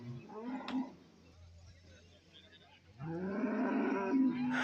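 Buffalo calves call at a cattle market near Parippally, with a few short moos rising over a low background murmur of the crowd and livestock.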